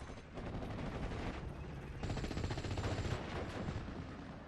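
Dense, continuous gunfire and distant explosions in the WWII strategy game Steel Division: Normandy 44, a steady rumbling barrage with overlapping rapid shots and no pauses.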